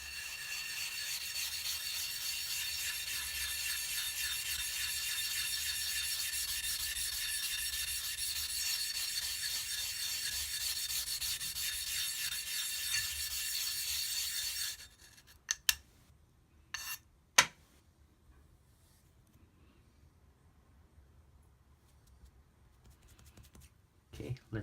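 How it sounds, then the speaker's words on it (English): Steady rubbing of a blade or slurry stone across a wet Cerax 1000 whetstone to raise a slurry, a continuous close hiss of grinding strokes that stops abruptly, followed by a few isolated knocks and scrapes. "I'm just gonna make a slurry with this."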